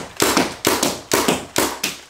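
A paintball gun fires inside a house, four sharp, punchy shots in an even rhythm about half a second apart, close and loud with no talking.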